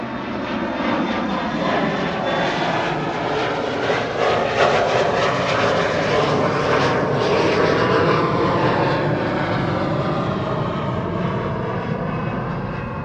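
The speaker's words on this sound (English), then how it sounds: "I think we can hear the reversers of the A380." Airbus A380 thrust reversers roaring during landing at Schiphol, a loud, sustained, broad jet rumble heard from a distance that swells slightly and holds for the whole stretch.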